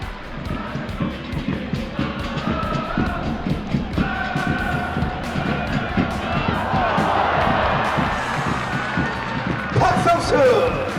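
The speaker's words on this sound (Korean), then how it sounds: "박수를 보내주십시오." A football stadium crowd at an FC Anyang versus Busan IPark match cheers and applauds as the first half begins, a loud, continuous roar of clapping and shouts under an announcer's voice, swelling toward the end.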